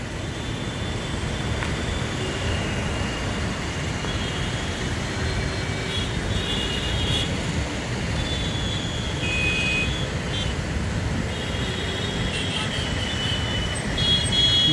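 Steady road traffic on the Mallapur Elephant Circle main road during a holiday traffic jam, a continuous broadband rumble of idling and slow-moving vehicles with faint higher tones, fairly loud and constant throughout with no clear talk.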